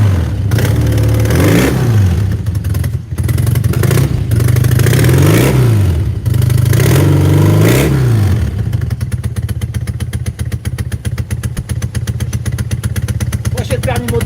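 Close, loud revving of a vintage motorcycle engine with electric start, three sharp throttle blips rising and falling before it settles into a fast, clattering idle, with people talking nearby.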